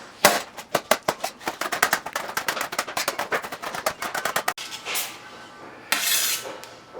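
Sweet mini peppers being chopped with a knife on a cutting board, a rapid run of close, crisp chopping taps followed by a few softer scraping sweeps.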